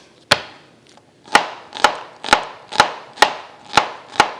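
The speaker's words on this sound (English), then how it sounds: "we're going to mince them up fine" A knife mincing large garlic cloves fine on a cutting board makes eight crisp, evenly spaced chops about half a second apart after one early strike, close and distinct with no talking.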